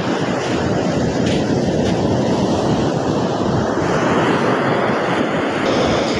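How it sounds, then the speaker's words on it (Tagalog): Rough sea surf crashes and churns in a continuous loud roar, mixed with gusty wind buffeting the microphone, with no voices heard. "Maalon talaga yung karagatan."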